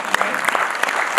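Audience applause at an entrepreneurship conference, a dense wash of clapping with a few sharper claps standing out, fairly loud and close, a voice speaking over it.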